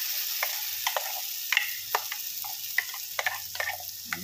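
Chilli paste goes into a frying green tomato and brinjal curry, with soft sizzling under a string of light clicks and scrapes from stirring, close but quiet.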